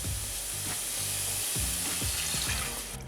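Lamb curry spices and broth sizzle steadily in a pot while being mixed, with repeated scraping stir strokes cutting through the constant frying hiss, close and fairly loud.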